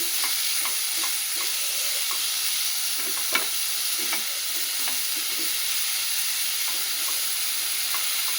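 Olive oil heats in a pan with a soft, continuous sizzle and occasional light clicks of a utensil stirring, quiet and close, with no talk.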